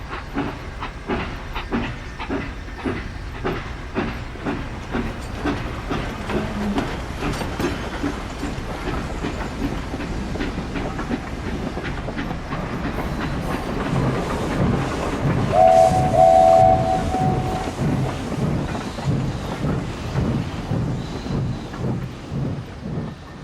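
A steam train chugs steadily along the rails with rhythmic clatter and hissing steam, growing louder midway, with a brief whistle-like tone.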